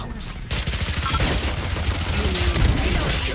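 Rapid gunfire in the tactical shooter Valorant, fired through a smoke cloud, a dense loud burst of overlapping shots starting abruptly and continuing for a few seconds, with game effects mixed in.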